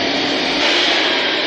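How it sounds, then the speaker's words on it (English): A vacuum cleaner works under couch cushions, a loud, steady broadband whoosh of suction running alone and unbroken for the whole short stretch. "This is your sign to vacuum under your couch cushions"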